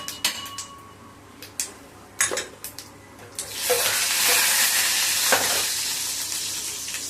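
Vadagam frying and being stirred in a pan for a drumstick and egg kuzhambu: scattered utensil clinks and brief sizzles at first, then a loud, steady sizzle that continues to the end with occasional stirring scrapes.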